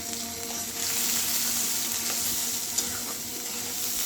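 Cabbage and shrimp fry in a pan with a steady, even hiss of sizzling oil, with one small knock partway through and no speech.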